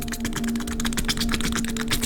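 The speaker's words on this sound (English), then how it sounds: "Just on my typewriter here." Rapid, dense clacking of typewriter keys rattles on without pause, close and fairly loud, with a faint steady hum beneath.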